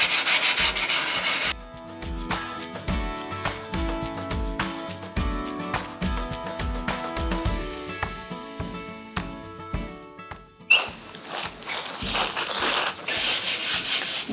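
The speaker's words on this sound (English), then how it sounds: "Then use a really fine grit sandpaper to sand it down." A bathtub is sanded by hand with fine grit sandpaper in quick, regular rubbing strokes, close and fairly loud, with a background hiss of music that swells at the start and end.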